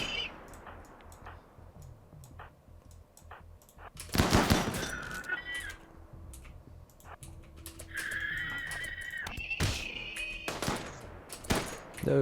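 Video-game gunfire from a RimWorld colony battle: scattered clicks at first, then sharp bursts of overlapping shots that come and go in clusters, with thin metallic ringing tones between volleys.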